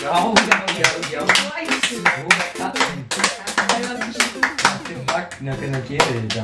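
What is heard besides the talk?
clapping hands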